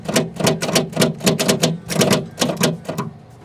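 A 1979 Steiger tractor's starter cranks after the machine sat for twelve years, a loud, rapid rhythmic chugging of about a dozen strokes per three seconds, close and continuous with no voices.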